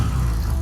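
A motorized pedicab (becak motor) on a city street in Sabang hums with a low, steady engine drone, close and continuous throughout the short moment.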